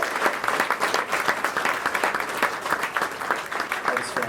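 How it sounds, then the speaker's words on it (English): A concert audience applauds steadily and densely throughout, a close, lively wash of many hands clapping without pause. "Please give him a round of applause"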